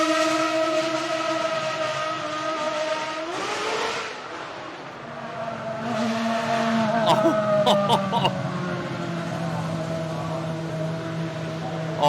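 A BMW Williams FW26 Formula 1 car with a V10 engine revs, its tone rising and falling in sweeping harmonic whines, with sharp crackling bursts midway, steady and fairly loud throughout.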